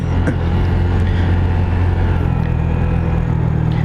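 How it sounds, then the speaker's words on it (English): A 2020 Honda Grom motorcycle engine runs hard and close, a dense, buzzing drone with heavy rumble and steady high-rev whine that holds throughout, mixed with wind noise. "Gets up to redline pretty quick."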